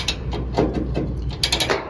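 A ratchet chain load binder is cranked tight on a truck trailer, giving a close, steady run of metallic clicks and clacks with small bursts of faster ratcheting.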